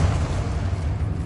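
A Confringo spell blasts in the Hogwarts Legacy video game, a loud, sustained low rumbling boom filling the whole moment with a dense roar and no voices.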